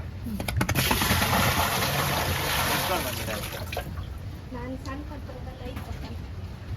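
Water gushes into the tub of a cheap 8-litre Star washing machine, a loud, continuous splashing rush that eases off after a few seconds into lighter trickling. Faint voices and birdsong sit in the background.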